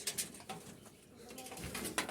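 Jalali pigeons coo softly and repeatedly, low murmuring calls overlapping against a light background hiss.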